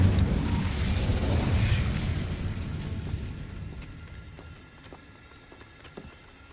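Incendio fire spell cast in Hogwarts Legacy, a loud whooshing burst of flame with a heavy roar that slowly fades over several seconds into a quiet tail with faint clicks.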